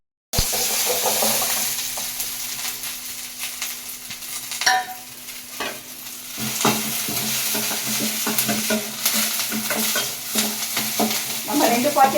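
Food frying in hot oil sizzles loudly and continuously in a pan, with occasional scraping and stirring knocks from a utensil throughout.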